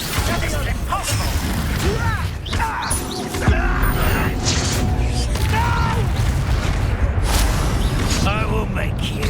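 Spells being cast with explosive impact effects during Hogwarts Legacy combat: repeated whooshing casts, crashes and booms under voiced character dialogue.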